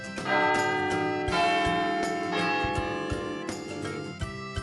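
Bells ring out in repeated clangs with long sustained overtones, steady and fairly loud over a musical background.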